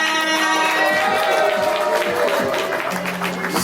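Crowd clapping and cheering for Mommy Mabel at an appreciation award event, a steady wash of hands and voices that runs through the whole stretch over a lingering music tone.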